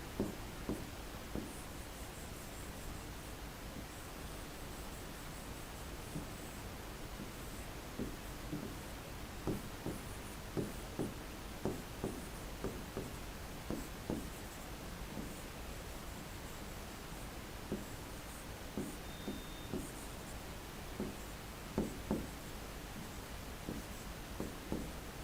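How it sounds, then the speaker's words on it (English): Pencil or pen scratching across paper while a first-order low-pass filter circuit is drawn, soft irregular strokes and taps close up over a steady background hiss, no talking. "So, here I am drawing the first order low pass."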